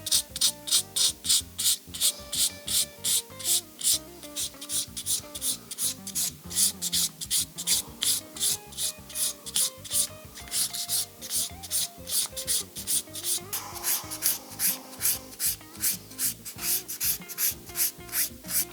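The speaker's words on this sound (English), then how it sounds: "What I'm trying to do is rub my sandpaper against the fret, therefore rounding it over." Sandpaper rubs back and forth across guitar frets to round them over, a rhythmic close scratching that repeats in quick even strokes throughout, with no talking.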